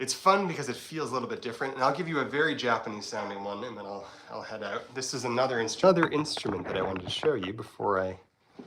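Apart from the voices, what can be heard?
No distinct noise like a dog, phone or traffic.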